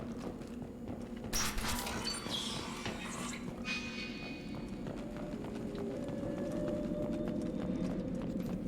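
Horse hooves clip-clop at a steady trot in the video game Mass Effect Legendary Edition, a quiet rhythmic patter beneath a dense game soundscape with a brief burst of noise early on.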